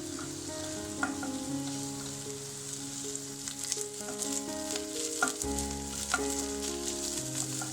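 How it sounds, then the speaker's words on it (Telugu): Cubed capsicum and sliced onion fry over a high flame, giving a constant close sizzle with occasional stirring clinks, while steady tonal background music plays underneath. "కొంచెం సేపు ఇవి ఫ్రై చేద్దాం."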